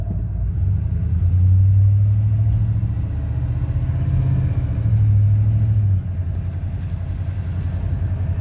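A 1999 Ford F150 pickup idles with a low, steady rumble, the engine swelling slightly a few times before settling back to a smooth idle, heard close by.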